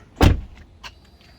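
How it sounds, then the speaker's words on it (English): A Tesla's rear door slams shut with one loud, close thud, followed by a couple of faint clicks and mechanical sounds as the car settles. "Close this back door."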